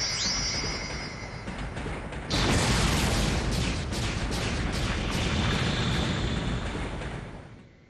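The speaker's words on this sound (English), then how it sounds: "And cue awesome explosion." A long booming explosion in the video game Mega Man ZX Advent rolls out as a loud, dense blast, layered with crackling debris, holding strong for several seconds before tapering off.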